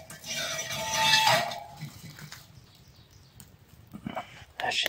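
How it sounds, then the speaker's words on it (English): Cast iron Dutch oven lifted off the flames in an off-grid cabin kitchen, a metallic clank and scrape of the pot up front followed by quieter knocks and handling noises, with a faint voice in the background. "I'm going to take that Dutch oven off the flames right now."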